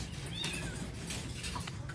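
Pet cats, plump and recovering from an eye infection, meow at close range against a steady background hum, a few short rising calls scattered across the moment.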